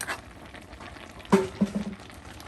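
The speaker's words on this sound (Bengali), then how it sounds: "এটা এখন উলট পালট করে দেওয়া হচ্ছে। মাছগুলো দেখুন নিচে একদম লাউয়ের সাথে কিন্তু আওলানো হচ্ছে" A pot of bottle gourd cooking with rohu fish head is turned over and stirred, giving a soft simmering background broken by a few close clinks and scrapes of a utensil in the pot.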